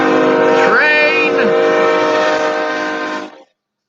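Train horn in Boulder, Colorado: a loud, close, sustained multi-tone blast with a brief pitch bend, holding steady for about three seconds before cutting off abruptly.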